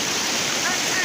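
A shallow river flows steadily with a dense, continuous rushing wash of water, close and fairly loud throughout.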